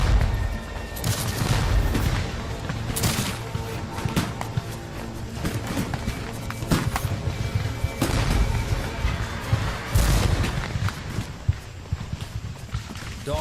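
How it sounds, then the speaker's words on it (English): Union muskets crash out in a Civil War battle at Gettysburg, a dense, continuous clatter of rifle volleys with repeated loud sharp bursts and booming shots, close and chaotic throughout. "the crash of Union muskets breaks out on our right"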